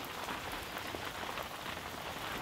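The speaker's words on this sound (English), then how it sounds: "It's been raining since about 6 o'clock this morning." Steady morning rain patters on surfaces at a lakeside camp on Canadian Crown land, around 39 degrees, a dense even hiss of drops with no pauses and no voices.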